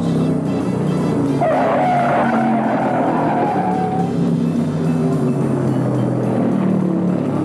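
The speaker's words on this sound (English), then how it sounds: "That was 34, Wendell Scott, who found the going a little rough and lost it in the fourth turn" A stock car slides through the fourth turn of the 1971 Virginia 500 at Martinsville, a brief tire squeal rising over the constant roar of racing engines and crowd noise.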